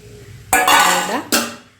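Tomatoes drop into a hot pan of cooking chana dal and greens, setting off two loud, close bursts of sizzling and spattering, the first longer and fading, the second shorter. No one speaks.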